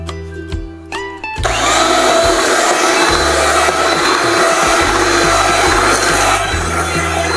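An electric grinder whirs loudly and steadily as it grinds mustard greens for saag, kicking in after a few brief quieter moments and then running continuously with a harsh, high mechanical whine.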